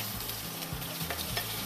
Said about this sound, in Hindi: इसको हमने अच्छे से जो है सॉटे कर लेना है, हल्का हल्का हम इसको सॉटे कर लेंगे